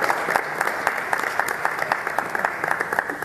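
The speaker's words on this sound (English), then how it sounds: "And let's give everybody a round of applause." A church congregation at a Methodist service gives a steady round of applause, close and even, with sharp individual claps standing out above the crowd for the whole stretch.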